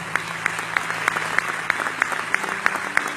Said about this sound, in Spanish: quiero que le dé un fuerte aplauso a ellos